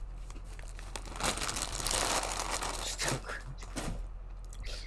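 Ketchup-flavored potato chips, three months old, are chewed with crisp crunching and crinkling close to the mouth, a dense run of bites that peaks mid-way, with faint talk around it.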